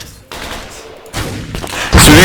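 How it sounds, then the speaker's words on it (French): Video game firefight with bursts of gunfire and heavy thumps, loud and close, growing denser toward the end, while players talk over the shooting. "Fais gaffe, Chris, je prends des tirs à briques quoi, ça vient de notre gauche peut-être"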